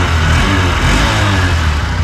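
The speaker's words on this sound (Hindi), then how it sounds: "अब हम पहले रेव करेंगे CB शाइन" A Honda CB Shine 125 motorcycle engine revs close up, a loud continuous mid-pitched exhaust drone holding steady throughout with no talk over it.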